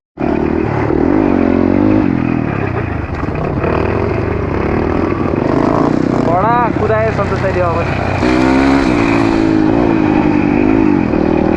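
Motorbikes on a narrow single trail, with engines droning steadily and rising and falling as riders come through, mixed with wind and rider movement, while someone talks over the noise throughout.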